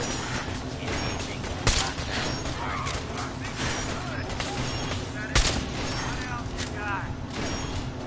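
Enemy turret gunfire in Fallout 4 rattles beneath a dense, busy game soundscape, steady crackling shots with a couple of louder sharp reports, while voices talk over the action.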